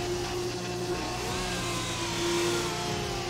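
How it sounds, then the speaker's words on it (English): Car engines in the GTA 5 video game drone and rev loudly and steadily, a continuous motor hum that swells slightly toward the end with no talk over it. "These cars are so loud."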